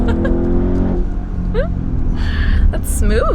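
A turbocharged car pulls hard as its turbos spool up, a heavy low engine roar building steadily and loud, with brief whooshing and whistling bursts layered on top and a voice talking over it early on.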